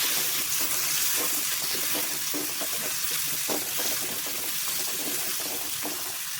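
Shallots and curry leaves fry in hot oil in a pan, giving a steady, fairly quiet broadband sizzle with faint crackles and no talking.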